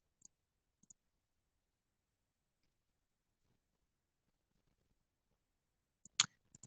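A few sharp computer mouse clicks, two isolated taps near the start, then a quick cluster of louder clicks at the end, with near silence between.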